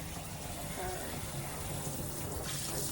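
Tap water runs steadily into a sink while a girl's hair is being wetted during a home hair-care lesson, a continuous close splashing gush with voices talking over it.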